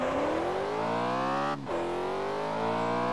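In the Test Drive Unlimited video game, an Audi RS6 with a swapped-in V10 engine revs loudly and continuously. Its pitch climbs steadily, dips briefly at a gear change, then rises again.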